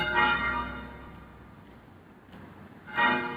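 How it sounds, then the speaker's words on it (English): Church bells ring in a harmonic, resonant peal at the start, fade into a quiet, decaying hum, then strike again near the end, moderately distant with no voices. "it's the bell ringing, the church ringing with the choir"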